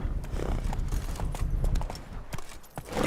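Horse hooves in The Witcher 3 clop in a quick, steady gallop rhythm, close and fairly loud, with no speech over them.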